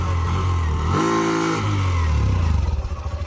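A motorcycle engine revs hard near the microphone during a wheelie attempt, holding a steady drone, dipping briefly, then surging with a pulsing throb.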